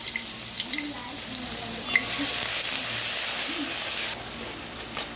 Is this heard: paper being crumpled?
no